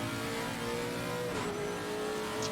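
A GT3 race car engine drones steadily at high revs at Laguna, its pitch shifting as a downshift drops it and it climbs again, loud and close throughout.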